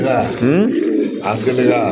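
Pigeons coo at a pigeon market where fancy and racer birds are sold in pairs, soft throaty calls mixed with people talking nearby throughout.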